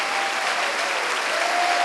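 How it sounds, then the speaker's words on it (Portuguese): A church congregation applauds in a steady, dense wash of clapping that fills the whole short stretch, with no voices rising above it. "vamos dar uma grande salva de palmas para a palavra do Senhor Jesus"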